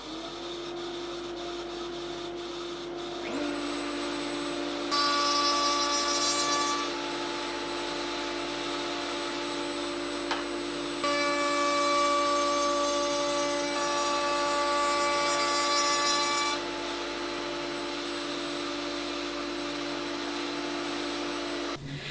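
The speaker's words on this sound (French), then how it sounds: "je vais le faire à la défonceuse sous table parce que ces pièces ne sont pas bien grandes" A table-mounted router rounds over the edges of small workpieces, a steady high motor whine with two louder passes of cutting as the stock is fed past the bit, the motor running alone between them.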